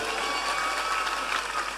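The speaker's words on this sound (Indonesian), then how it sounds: "Tepuk tangan untuk Karangjengkol ini." Applause from an audience at an Islamic religious gathering in Karangjengkol, a steady wash of hand clapping filling the short moment without a break.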